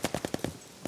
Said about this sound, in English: Oh, with a little minigun there.